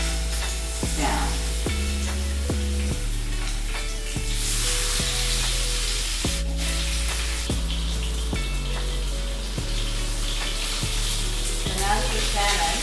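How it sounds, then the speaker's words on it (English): Salmon sears skin side down in a pan over high heat, giving a steady hiss of frying beneath prominent background music that carries through the whole stretch. "We're going to place the salmon in the pan, skin side down."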